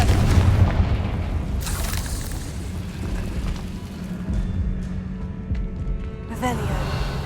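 A Confringo spell explosion from Hogwarts Legacy, heard as loud booming blasts and rumbling over a dense game soundscape, with a sharp burst near the start and another toward the end.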